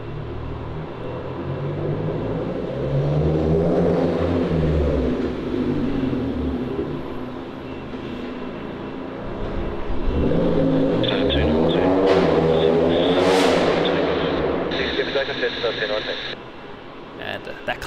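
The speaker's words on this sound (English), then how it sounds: "that car was louder than all the planes at the airport combined" A car engine roars loudly as it accelerates past near Melbourne Airport, Australia, the revving rising and falling over a steady low rumble, with talk faintly underneath.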